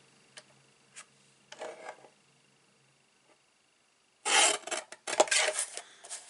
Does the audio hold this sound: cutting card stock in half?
yes